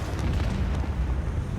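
Torpedo explosion in a ship battle in Warhammer 40,000: Rogue Trader: a sustained, deep rumbling blast, loud and continuous throughout.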